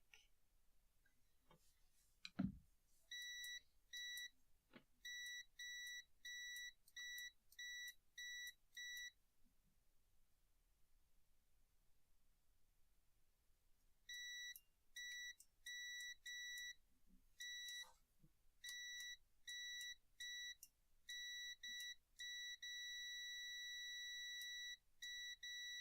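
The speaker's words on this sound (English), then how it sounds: "And the beep sound, it did the same when I disconnected the wires." Computer hardware beeps in short, evenly spaced bursts after its wires are disconnected, faint and high-pitched in repeating groups, with quiet pauses between runs and a brief click early on.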